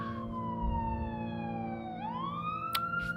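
Police car sirens wail as numerous police cars pull up to a building at daybreak, a steady falling tone that dips and then rises again, loud and continuous over a low engine rumble, with a couple of brief bright bursts near the end.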